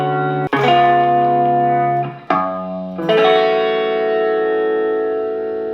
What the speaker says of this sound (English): So here goes the guitar right now, which sounds like this.